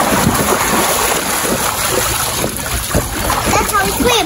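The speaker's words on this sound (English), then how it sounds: "I'm gonna be swimming and I'm gonna show you how I swim" A child swims and splashes in water, with choppy splashing bursts running under frequent child speech and nearby voices.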